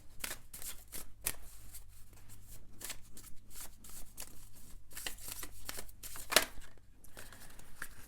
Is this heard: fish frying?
no